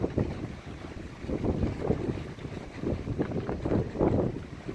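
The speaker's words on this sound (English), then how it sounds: "Little wind starting to pick up." Wind gusting and buffeting across open water on Dauphin Island, Alabama, ahead of Hurricane Nate, a steady rushing roar with rising and falling surges of microphone wind noise and no talk.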